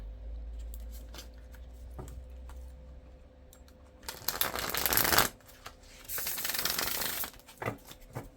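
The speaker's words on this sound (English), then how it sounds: "One more shuffle." Tarot cards being shuffled: soft riffling and flicking at first, then two louder, dense bursts of rapid card riffles close by, no talking.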